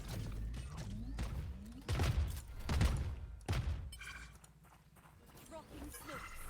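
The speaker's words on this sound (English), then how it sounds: "missiles away" A missile barrage in a tactical shooter game, a rapid string of heavy thuds and blasts with whooshing launches, mixed with in-game mechanical noises and a voice speaking over it.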